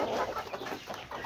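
Fayoumi chickens on a small family farm cluck softly in a brief, faint burst of bird calls against a quiet background, with no voices.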